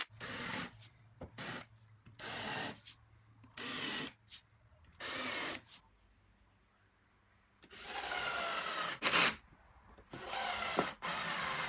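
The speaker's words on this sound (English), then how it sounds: "enlarging and countersinking the holes in the face and bottom pieces for the screws" A power drill enlarges and countersinks screw holes in wooden face and bottom pieces of a table saw fence, running in repeated loud bursts of whirring and grinding separated by short pauses, close up with no talking.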